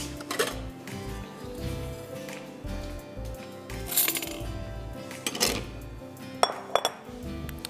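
Icing sugar, peppermint essence and cream being mixed in a bowl, heard as repeated close clinks and scrapes of a utensil against the bowl in an irregular rhythm, with a few sharper knocks near the end.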